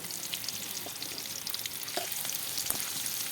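Catfish bhuna frying in a pan over a clay stove, a steady close sizzle with a few brief stirring scrapes and pops, no talk.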